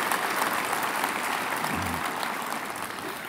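Bellarmine University class of 2013 graduates applauding themselves at a commencement ceremony, a large hall full of steady, sustained clapping that tapers off slightly toward the end.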